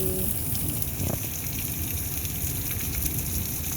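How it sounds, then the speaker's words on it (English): Rain mixed with falling hail ice during a thunderstorm in Iowa, a dense, continuous hiss and patter with scattered sharper ticks of ice hitting surfaces, steady and fairly loud. "It's raining, but there's a lot of ice dropping."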